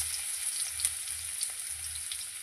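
Chopped garlic and ginger frying in hot oil, a soft, steady hiss with a few faint clicks, close but quiet.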